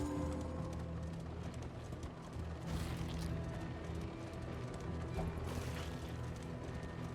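Horse hooves clopping in the video game Darkest Dungeon 2, a quiet rhythmic trot under a dense, steady layer of game ambience and rumble.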